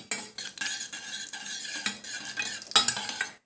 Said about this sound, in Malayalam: അതിന് ശേഷം കുറച്ച് ജീരകം ഇട്ട് നന്നായി ഒന്ന് മുരിയട്ടെ.